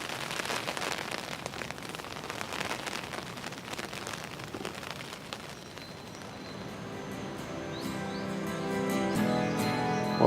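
A hailstorm at a fishing lake, with dense scattered ice pellets clattering and pattering on surfaces for about ten seconds, loud and close, thickening into heavier pounding toward the end.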